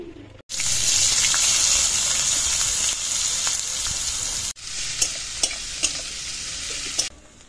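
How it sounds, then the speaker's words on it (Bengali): Chopped onion hits hot oil already seasoned with dried chilli, bay leaf and nigella seeds, setting off a loud, sustained sizzle for a village-style rohu kalia. A few sharp spatula scrapes and clinks follow as the sizzle settles. "এবার দিয়ে দেবো পেঁয়াজ কুচি।"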